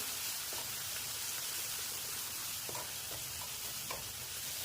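Turmeric, onion, garlic, red chilli and kitchen king masala sauté in a pan for puri bhaji, giving a steady, faint hiss of frying with a few soft stirring taps.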